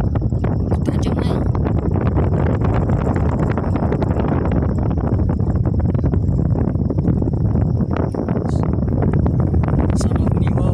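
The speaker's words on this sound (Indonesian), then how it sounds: "anginnya kencang" Strong wind buffets the microphone outdoors in a village on an island of western Seram, a loud, continuous roaring rush with no pauses, and voices can be heard amid the gusts.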